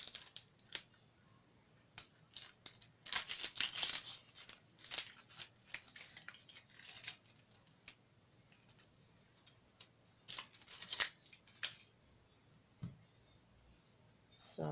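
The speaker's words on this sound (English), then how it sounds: "So I'm peeling my onions now." Onions are peeled by hand in a kitchen while porridge is prepared, giving faint crackling and papery tearing in irregular bursts, some denser stretches and some quiet gaps, heard close up.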